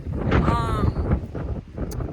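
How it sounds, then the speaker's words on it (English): Strong gusts of around 50 to 60 mph on the Pacific Crest Trail, a loud roaring buffet of wind noise battering the microphone throughout. "the wind's about 50 with like the occasional gust of 60 plus"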